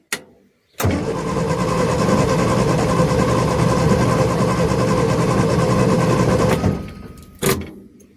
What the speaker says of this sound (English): So that's the starter, not happy.